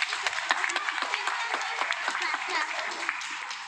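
Audience at an Assam dance competition claps steadily, a dense, lively patter of many hands with uneven peaks, continuing for several seconds at moderate distance.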